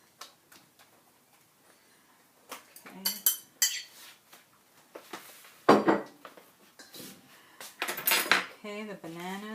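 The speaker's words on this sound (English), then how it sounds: "I'm just going to mash these up." Juicy thawed bananas being mashed in a bowl, with irregular clinks and scrapes of a utensil against the dish and soft squishing, close and fairly quiet with sporadic louder knocks.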